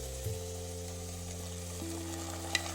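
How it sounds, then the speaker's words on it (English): Spinach puree is stirred into fried onion and potato in a cooking vessel, giving a soft sizzle and scraping stirs over a steady low background hum. "Now, we need to add the paalak puree to the vessel."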